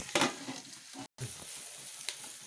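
Onions sauté in a pan for a Kannur-style country chicken curry, a soft continuous sizzle broken by stirring scrapes and one brief cut to silence.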